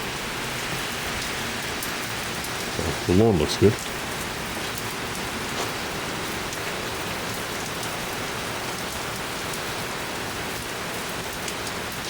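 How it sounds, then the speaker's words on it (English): Steady rain patters on surfaces throughout, a constant hiss of drops, with someone briefly speaking partway through. "It is raining."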